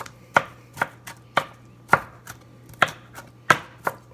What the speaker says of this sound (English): I'm just kind of rough chopping it.